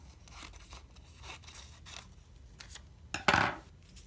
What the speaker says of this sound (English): I often will cut the doilies in half